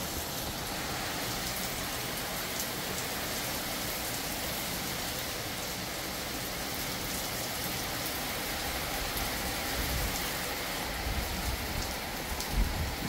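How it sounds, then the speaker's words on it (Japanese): Heavy rain pours down steadily as a dense, loud, continuous hiss on surfaces outdoors, with a few heavier bursts near the end and no voices. "大雨です。"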